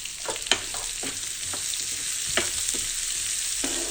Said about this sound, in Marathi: हे छान आपल्याला लालसर होईपर्यंत भाजून घ्यायचं आहे किंवा परतून घ्यायचं आहे